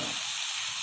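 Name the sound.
hot water added to egg curry pan, sizzling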